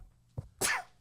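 A single sharp human sneeze, preceded by a quick faint intake, bursts out close and fairly loud in a quiet room, then fades quickly.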